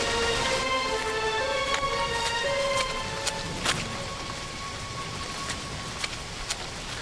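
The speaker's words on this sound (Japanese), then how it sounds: "大雨じゃん、 めっちゃ雨降ってる。" Heavy rain in the horror video game Remothered falls as a constant hiss, with a few faint tones and soft clicks over it.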